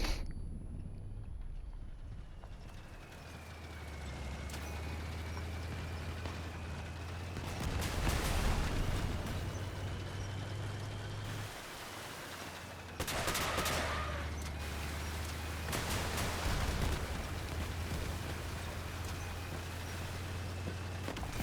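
Heavy weapon fire from armored combat vehicles in the game Crossout, sustained bursts over a steady engine drone, with a few louder volleys standing out.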